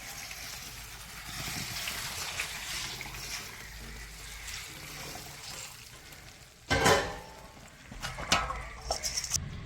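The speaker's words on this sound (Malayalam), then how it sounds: "കുറച്ച് വെള്ളമേ എടുത്തിട്ട് ഇതാ ഇതിൻ്റെ പുറത്തോട്ട് അങ്ങ് ഒഴിക്കണം കണ്ടോ" Water is poured over black peppercorns, giving a steady wet splashing and trickling wash with louder splashes near the end.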